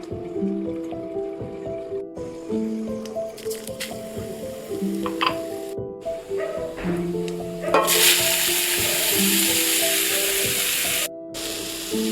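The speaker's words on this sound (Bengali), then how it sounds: "সব মেথি শাক আর গাছের বেগুন একসঙ্গে নিয়ে কিরকম ভাবে ভাজা হয় আপনারা দেখতে থাকুন" Eggplant and fenugreek greens frying in a pan, with a loud burst of broadband sizzling toward the end over steady background music.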